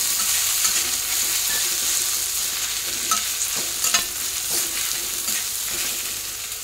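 Tomatoes sauté in oil for shevbhaji with a constant bright sizzle and occasional clacks and scrapes of a spoon stirring the pan, close and steady, with no voices.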